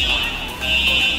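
A fire alarm sounds inside a shopping mall, a steady high-pitched electronic tone ringing continuously and fairly loud over the hum of the building, with no one talking.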